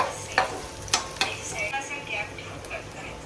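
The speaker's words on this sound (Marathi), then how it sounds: "आता हे सगळं भाजून घेऊया कांदा पण थोडा लालसर होईपर्यंत भाजून घेऊया" Onion fries in a pan until reddish, a light sizzle broken by a few sharp spatula taps and scrapes against the pan, with talking over it.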